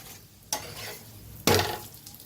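Banana flatbreads made with jaggery cook in oil and ghee on a pan, giving two sharp bursts of sizzling over a faint steady frying hiss, with no voices.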